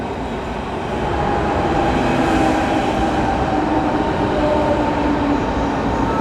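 A Berlin S-Bahn S5 train rumbles through Westkreuz station with a steady, continuous rolling roar and faint tonal whine from the wheels, heard alone without talk.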